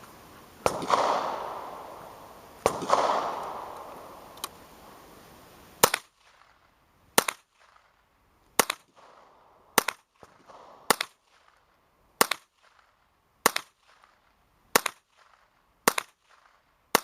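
Ruger 10/22 takedown rifle fired outdoors in a steady series of about a dozen sharp, evenly spaced shots, the first few ringing with a longer echo.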